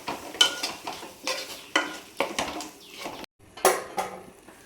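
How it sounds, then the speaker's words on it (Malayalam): A spoon stirs yogurt into cooked tomato masala for chicken biryani, giving a series of close, wet scraping and clinking strokes against the pot in uneven bursts with brief pauses, no voices. "ഈ സമയത്ത് 1 കപ്പ് തൈര് വീണ്ടും ഇളക്കി കൊടുക്കാം."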